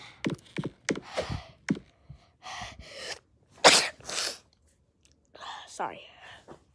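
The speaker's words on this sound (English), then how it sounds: "I just turned on my TV by sneezing" A sharp sneeze bursts out among scattered close-up mouth noises, breaths and quiet murmuring, with short pauses between the sounds.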